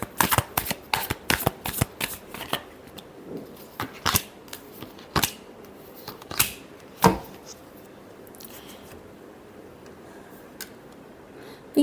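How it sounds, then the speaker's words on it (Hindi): A deck of tarot cards being shuffled up close, with rapid riffling snaps and flicks in quick bursts that thin out into a few sharp taps and near silence. "Last shuffle."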